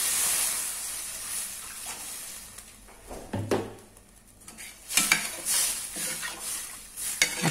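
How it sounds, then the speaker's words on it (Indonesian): Spices being stirred in a pan with water while cooking blood clams, a soft scraping and sizzling bubble with a few sharper clinks of utensil against the pan, fairly quiet and close. "Aduk lagi bumbunya."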